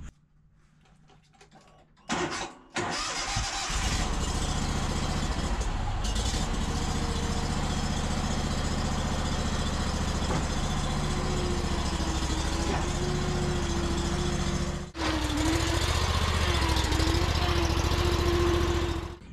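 A new stand-on riding lawn mower engine starts after a faint lead-in, then runs at a loud steady drone with a brief dip before roaring on.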